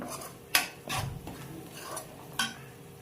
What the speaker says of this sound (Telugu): కారం వేసుకొని కలుపుకోవాలి